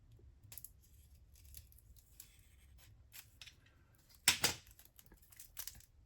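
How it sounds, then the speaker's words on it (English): A blade slits open the paper wrapping of a Fourth Edition Magic: The Gathering starter deck, a quiet scratchy rustle building to one sharp, close slicing rasp with a few lighter crinkles after, no talking. "we're just going to slice down the book here so as to not put any stress on the cards"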